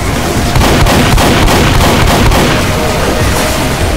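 Rapid shotgun fire from Team Fortress 2 on a zombie escape map, dense overlapping blasts in a loud continuous barrage with no gaps.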